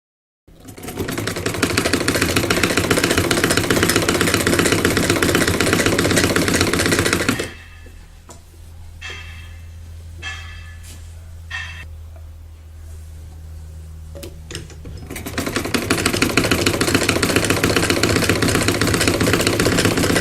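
A sewing machine stitches a folded seam on an embroidered dress, running loud and steady in two long bursts separated by a pause filled with quieter fabric handling and small clicks.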